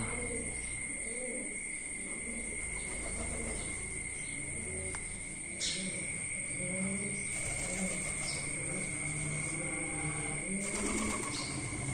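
Pigeons coo repeatedly in soft, low calls at a stepwell Shiva temple in Devaliya, with other birds and a steady insect drone continuing throughout.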